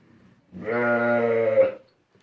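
A single Sakız sheep bleats once, a loud wavering call lasting about a second, close by in an otherwise quiet pen.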